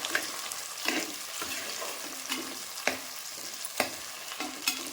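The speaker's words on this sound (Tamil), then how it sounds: "தக்காளி பழம் இவ்வளோ சைஸில் ஒரு அஞ்சு தக்காளி பழம் போட்டிருக்கிறேன் இதையும் நல்லா வதக்குவோம்" Five tomatoes sautéing in a pan for garlic kuzhambu, a soft steady sizzle broken by regular sharp stirring clicks about once a second, with no talking.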